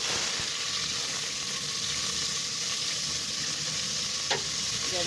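Onions with curry leaves frying in oil for a village-style veg pulao, a dense, continuous, close-up hiss and crackle at steady loudness, with a small clink near the end and no voices.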